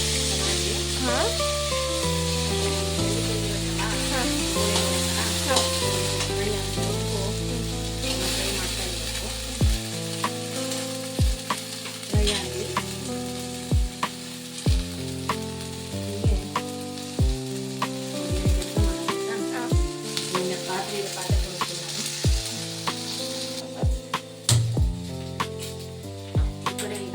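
Food sizzles steadily in a pan for a family home lunch, a continuous frying hiss with occasional sharp clicks and scrapes, and bright tonal music running underneath throughout.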